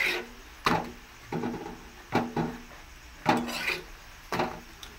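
Roti dough is rolled out with a rolling pin, producing a rhythmic series of about six close, hollow wooden knocks and rolling rubs, each stroke followed by a short scrape.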